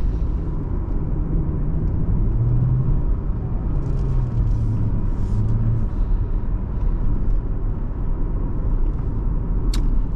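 A 2007 Lexus GS350 AWD accelerates on a test drive, its engine and road rumble a steady, loud drone from inside the cabin, with a faint rising engine note partway through and no voices.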